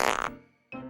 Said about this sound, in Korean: 마지막으로 힘껏 방귀를 뀌었어요